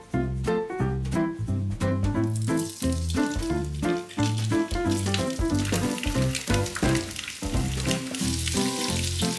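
Vegan duck fries in a hot pan, giving a dense, continuous sizzle that stays loud and close throughout, with a steady tonal background underneath and no talking.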